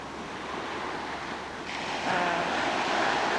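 Ocean waves roll in on a calm Hawaii beach, a broad steady wash of surf that swells louder partway through, with some breezy rustle and no talking.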